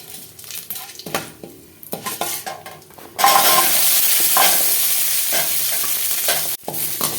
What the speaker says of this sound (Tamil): சின்ன வெங்காயம் ஒரு கைப்பிடி அளவுக்கு எடுத்துருக்கேன், அதையும் போட்டு வறுத்துக்கலாம்.